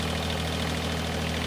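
A Huayee SHY20 small diesel engine idles steadily, a dense, even mechanical rumble with a constant low throb, close up and uninterrupted.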